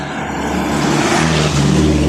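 Cars and other vehicles rolling along Tagaytay's Sampaloc road, a steady, fairly loud broadband engine and tyre rumble holding throughout without pause or voices.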